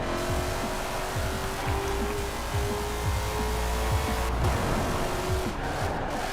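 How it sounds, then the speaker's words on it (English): A steady naturally aspirated car engine drone with no turbo runs throughout with a sustained rising and falling tone, loud and close, from a racing car in Forza. "No turbo, naturally aspirated into the wall. But listen to that."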